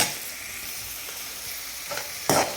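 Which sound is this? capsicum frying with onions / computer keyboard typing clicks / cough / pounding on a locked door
capsicum frying with onions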